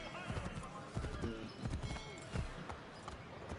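Horse hooves clip-clop in Assassin's Creed III, a steady patter of game hoofbeats running under near-constant talking throughout.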